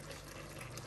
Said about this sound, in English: go ahead and add a little bit water, almost 1 cup